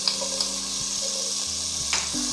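Onion, shallots and garlic sizzle steadily in hot oil in a pan for a homemade soup, a continuous close hiss with light scraping of stirring and a few soft clinks.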